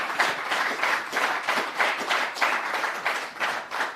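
Studio audience at a forum event breaks into a big round of applause, steady dense clapping from many hands sustained throughout, moderately loud with no talk over it.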